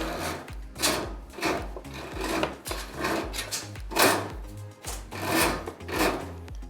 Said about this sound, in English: Push your MC through the stud.